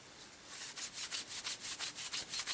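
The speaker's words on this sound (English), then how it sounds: "Charge the plastic rule by rubbing it against the cotton t-shirt" A plastic ruler is rubbed back and forth against a cotton t-shirt, making about a dozen soft, rhythmic swishing strokes, quiet and close.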